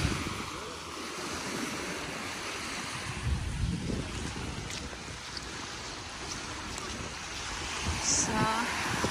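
Sea waves at Kalamaki Beach on Zakynthos wash in a broad continuous hiss with gentle surges, mixed with wind buffeting the microphone and a faint voice near the end.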